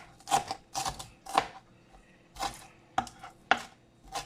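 A knife chops fresh dill on a cutting board in a steady run of crisp, close thuds, about seven strokes with short pauses between.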